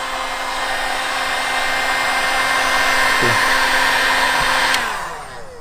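A heat gun blows hot air steadily onto vinyl wrap on a backyard garage, a loud, even whine and rush that holds for about five seconds before winding down.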